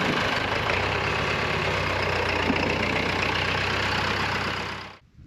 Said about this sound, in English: These trucks showed up in the middle of the night.